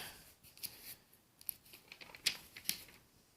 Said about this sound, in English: I've also cut 6 pieces of 1-inch webbing